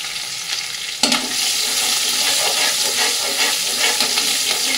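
Chopped garlic dropped into hot oil, a sudden burst of sizzling that settles into a loud, steady frying hiss, close to the pan and uninterrupted by talk.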